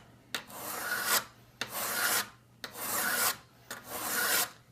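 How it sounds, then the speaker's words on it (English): A hand file is draw-filed along the edge of a cabinet scraper clamped in a vise, making four long, steady rasping strokes close by, each with a sharp onset and a short pause between passes, no talk. "Then I do what's called draw filing. So you put the handle to the left and draw it towards you."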